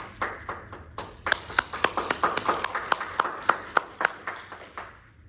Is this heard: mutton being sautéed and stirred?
no